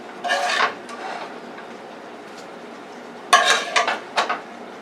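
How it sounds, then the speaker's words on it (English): Cooked onions being mixed into a pan of pasta, with two short bursts of scraping and clinking utensil against the pan, one near the start and a longer flurry toward the end, quiet in between. "now I'm going to incorporate the onions right in this pan with the pasta"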